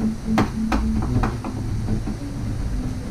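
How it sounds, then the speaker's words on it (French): Knife chopping a small piece of food on a board during a cooking class in Indonesia, several sharp distinct chops spaced unevenly over steady background noise. "Hacher un petit morceau, ok?"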